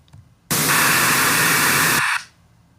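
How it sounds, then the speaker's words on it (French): Pink noise generated in Audacity: a loud, steady broadband hiss that starts abruptly, holds evenly for about a second and a half, then cuts off, with near silence on either side. "on va choisir ici le bruit rose, le même amplitude, et on va générer"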